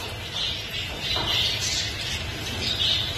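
Large ornamental birds kept at a bird dealer's call in a few raspy, squawking bursts over a noisy room background, moderately close.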